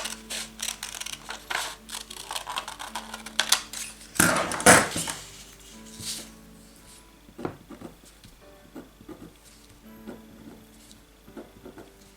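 Scissors cut out the back piece of a princess-seam blouse pattern with irregular crunchy snips and slides, one louder burst of cutting in the middle, then scattered lighter snips.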